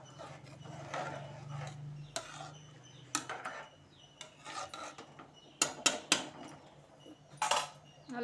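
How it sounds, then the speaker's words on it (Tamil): A metal spoon stirs mushroom biryani rice in a pot, scraping and clinking in uneven strokes, with soft stirring rasps between sharper knocks, close by and moderately quiet. "உப்பு சேர்த்தோன்னா நல்லா கிளறி விட்டுக்கலாம்."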